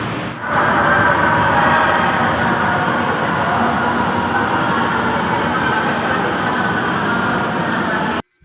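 An MRT metro train rumbles loudly and steadily into a station, a constant roar of wheels and motors that cuts off abruptly at the end.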